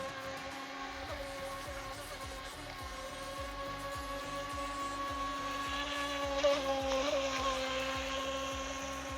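A Feilun FT009 RC boat's small electric motor whines steadily at a distance on water, a high buzzing drone that stays constant throughout with slight swells.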